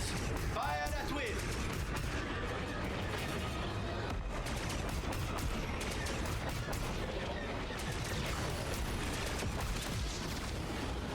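Dense, continuous blaster and cannon fire in a Star Wars Outlaws space battle, a relentless barrage of rapid shots and blasts with game voices mixed in underneath.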